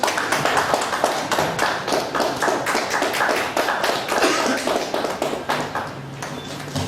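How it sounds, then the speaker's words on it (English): Round of applause at a professional study-circle meeting: several seconds of sharp, dense clapping from a roomful of people, close and loud, tapering slightly toward the end. "Let's have a round of applause,"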